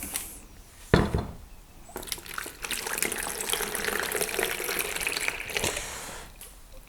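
Water pours into a container to make brine for lacto-fermented cucumber pickles, a close, splashing gush that builds after a clunk and runs for several seconds.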